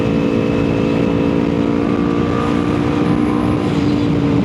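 A Kawasaki Ninja 300 motorcycle rides through canyon roads with a steady, loud engine drone and wind rush heard close up, holding an even pitch throughout.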